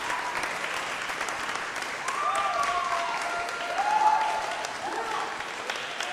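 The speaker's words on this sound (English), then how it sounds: "Crowd going nuts, lights coming back on." A wrestling crowd at an NIW Cause For Conflict show cheering and applauding steadily, a dense clapping wash that swells midway, with faint whistles and a voice talking over it.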